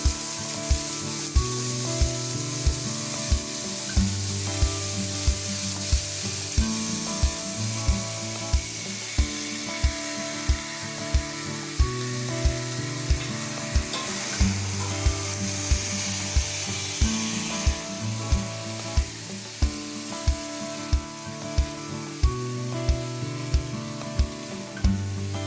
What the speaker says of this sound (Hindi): इसमें कटा हुआ आलू डालकर चला लेंगे।